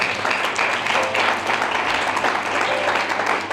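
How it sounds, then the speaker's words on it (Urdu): Applause from a church congregation during a bishop's sermon, a dense steady patter of many hands filling the room for a few seconds, with a faint voice underneath. "زوردار تالیاں خدا۔"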